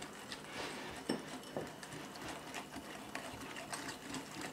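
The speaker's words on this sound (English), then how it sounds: "Just whisk this up really, really good." Apricot jam and miso paste being whisked together in a bowl, a steady fast scraping, rattling rhythm close up with a few sharper clinks, continuous throughout.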